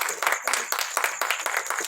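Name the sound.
congregation applauding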